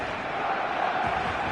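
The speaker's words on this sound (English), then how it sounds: "but it certainly got the crowd going." Stadium crowd in eFootball 2026 roars and cheers, a steady broad wash of massed voices at moderate level, continuous throughout with no clear commentary on top.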